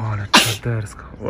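A single sharp sneeze bursts out in the middle of excited talk on a mountain hike in Omiš, Croatia, with voices speaking just before and right after it.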